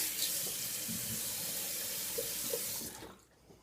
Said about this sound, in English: I'm going to wet my face really quick.